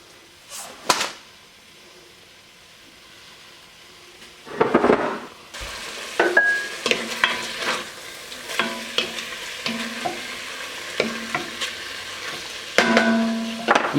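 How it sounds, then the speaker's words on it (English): Pork and vegetables browning in hot oil in a pan, a steady sizzle punctuated by repeated close scraping and stirring clatters, with a loud burst as the food goes in. "go ahead and add our pork in here. And we just want to brown this off"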